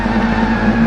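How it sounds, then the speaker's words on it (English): Audi race cars doing burnouts in a motorsport event, a loud, steady engine drone with a tonal hum and tyre roar, brief and unbroken. "the Audis are giving us a display of burnouts, trying to meld into each other and do a double burn"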